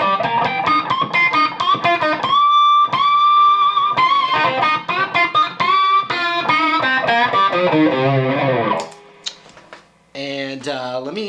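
Distorted electric guitar playing a blues rock lead, loud and close, with sustained bent notes and quick picked runs, then a short pause before a final harmonic-rich phrase.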